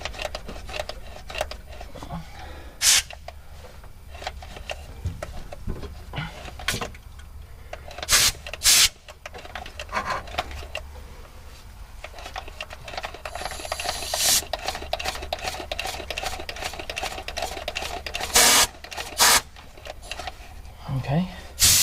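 The diesel fuel system is hand-primed on a 1976 Ford highboy with an Isuzu engine swap, making scattered rasping, rubbing and clicking mechanical noises in a close, quiet workshop, with a voice now and then.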